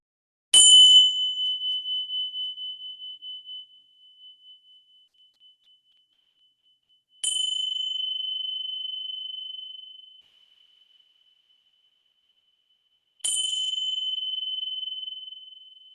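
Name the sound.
ringing of bells for listening exercise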